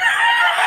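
A rooster at a poultry market in Bocaue, loud and close, letting out a brief strained crow segment lasting under a second.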